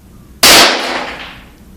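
A single sharp handgun shot fired at a target from 20 feet, loud and close, cracking out of near silence and decaying over about a second.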